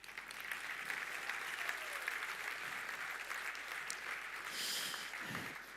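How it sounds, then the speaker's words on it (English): A round of applause at the opening ceremony of the 2022 ICPC SWERC programming contest, heard as a faint, distant, sustained wash of many hands clapping in a large hall. "So please give a round of applause to all of our sponsors."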